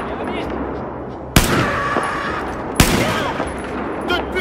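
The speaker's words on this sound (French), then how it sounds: "Je tire!" Gunfire in the video game Battlefield 4, two sharp loud shots about a second and a half apart over a continuous din of distant battle noise, with voices shouting in French.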